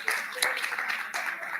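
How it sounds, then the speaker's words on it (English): A conference audience gives a steady round of hand clapping, a thick continuous patter of many hands with a few sharper claps standing out. "A big hand clap, I thought, would come after that."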